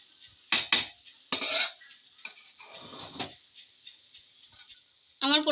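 A pot of vegetable pulao with a little ghee on top is stirred, giving a few clinks and scrapes of a spoon against the pot over a steady high hiss, and a voice is briefly heard at the end.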